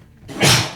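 A single short sneeze, close and fairly loud, lasting well under a second.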